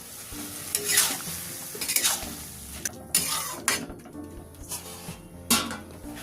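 Water is stirred into drumstick flowers and vegetables in a pan, producing a low sizzle broken by several distinct scraping and knocking strokes of a spatula, close and unaccompanied by talk.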